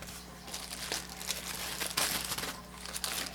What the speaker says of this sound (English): I know you're hearing a bag rustle